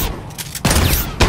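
Gunfire in a video-game firefight: two or three sharp, loud bursts of shots within about a second, close and clipped, with a brief echoing tail.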